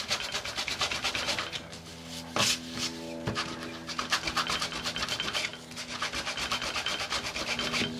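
A grunge block sanding the foil surface of a journal page, a continuous scratchy rubbing with rhythmic back-and-forth strokes and a couple of sharper scrapes, close and fairly quiet.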